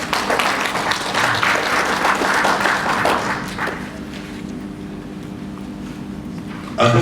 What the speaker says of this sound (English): I would like us to please give him a round of applause